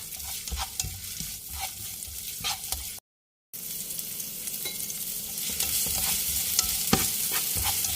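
Shallots frying steadily in hot oil for a Pad Thai sauce, giving a continuous close crackle and sizzle with occasional stirring scrapes, briefly cut out midway, with no talking.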